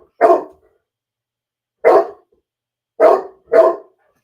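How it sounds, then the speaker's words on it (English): A female pet dog barks four separate times, loud and close, with long pauses between the first barks and the last two close together. "my dog is just sitting there barking"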